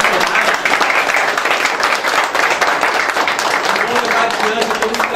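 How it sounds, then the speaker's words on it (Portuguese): Audience at the inauguration of a BrasilTreina training unit in Santo Antônio de Jesus, Bahia, claps steadily and loudly for about five seconds, a dense continuous patter with a voice talking over it. "Uma salva de palmas, né, aos nossos administradores"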